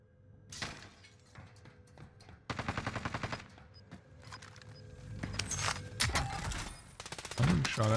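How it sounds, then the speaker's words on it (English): Gunfire in Warzone on Rebirth Island, with bursts of rapid automatic fire and scattered single shots, some distant and some close, mixed with breaking-glass sounds and game noise; a voice speaks over it. "I'm getting shot at from somewhere."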